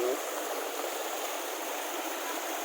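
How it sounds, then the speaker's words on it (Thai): Stream water rushing near Huai Mai Kaen waterfall, a steady broadband hiss of flowing water, close and continuous, with no talking. "มีเสียงน้ำลำธาร สบายใจ ฟังแล้วรื่นหู"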